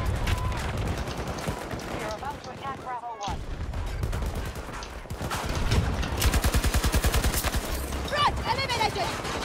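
RPT-31 light machine gun from Battlefield 2042 fires in long rapid bursts, loud and close, with a brief pause partway through and someone talking over the gunfire.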